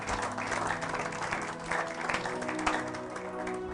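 Church congregation applauding during a sermon, a dense continuous wash of clapping with music underneath, steady and loud across the whole moment.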